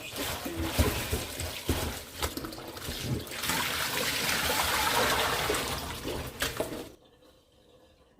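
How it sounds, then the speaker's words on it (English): Tap water runs steadily over spinach leaves being washed in a home kitchen, a loud close splashing rush that cuts off abruptly near the end. "I finished washing my spinach."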